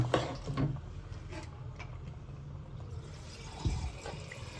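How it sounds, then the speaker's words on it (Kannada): Water pours and splashes into a pot of mutton, a gurgling rush that starts strongly and settles into a softer, steady flow. "ನೀರು ಹಾಕ್ಯಾಳ ಇವಾಗ"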